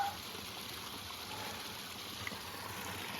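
A forest creek flows steadily beside a mountain backpacking trail in early spring, with frozen pieces still along its banks. The rush and trickle are continuous and fairly soft, with no voices over them.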